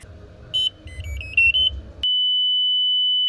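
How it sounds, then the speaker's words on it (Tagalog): A SafeQuake earthquake sensor device, built by high school students in San Fernando, Pampanga, sounds its buzzer alarm: a few short high beeps over background noise, then one loud continuous steady tone held to the end. "Kapag lumindol, tutunog ang buzzer."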